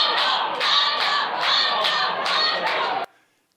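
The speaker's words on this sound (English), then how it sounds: "So students cheering for the supervisor, Chun-Che." A recording of students cheering for their supervisor: a burst of rhythmic crowd shouting and whooping, repeated in pulses for about three seconds before cutting off abruptly into silence.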